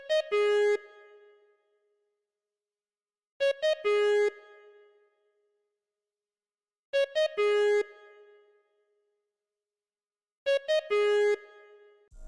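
A synth lead and pluck melody made in FL Studio for a beat, with notes that stutter in quick rapid bursts, repeating as four short phrases separated by silence.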